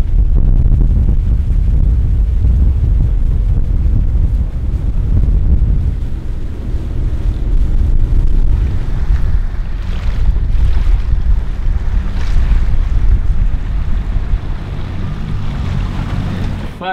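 A sailboat moves over an open lagoon amid heavy, buffeting wind that rumbles loudly across the microphone, with water sloshing underneath throughout.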